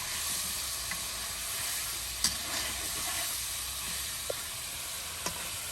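Chicken frying in hot oil with spices, a steady close crackling sizzle that runs the whole time, with a few faint clicks and stirring knocks on top.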